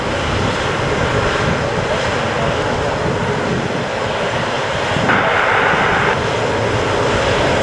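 Four Lakenheath F-15 fighter jets depart RAF Mildenhall with a loud, continuous roaring jet engine noise that fills the scene at steady intensity, swelling slightly near the end, with wind on the microphone.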